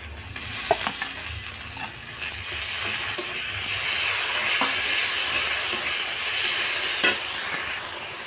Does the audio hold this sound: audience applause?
no